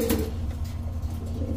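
Domestic pigeons such as Spanish pouters, Danish and racing pigeons coo softly at a pigeon market, a low murmuring coo running through the short clip with steady background noise.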